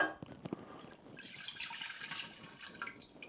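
Ruby port, about 250 millilitres, pours into a saucepan with a soft, steady splashing trickle that follows a few light clinks of the bottle. The sound is close but quiet.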